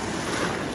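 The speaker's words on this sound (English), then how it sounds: "Oh, here come the waves." Waves crashing in a waterpark wave pool, a steady rushing wash of surf that fills the short moment alone, loud and close with no voices.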